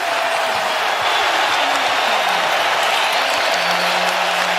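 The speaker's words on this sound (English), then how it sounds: "a crowd showing an appreciation" An NBA playoff basketball crowd applauds and cheers in an arena, producing a dense, sustained wash of clapping and crowd noise at steady, loud volume, with faint tonal sounds rising underneath toward the end.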